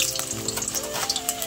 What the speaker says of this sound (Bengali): তেলটা গরম হয়ে গেছে, আলুটা ছেড়ে দিলাম। আলুটা একটু ভেজে নেব